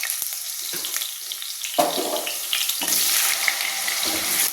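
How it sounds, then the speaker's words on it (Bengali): Potatoes frying in oil in a home kitchen pan for a vegetable curry, a steady crackling sizzle throughout that grows louder and denser partway through, with occasional stirring scrapes and no talk. "এবারে আমি আলুগুলোকে ভেজে নিই।"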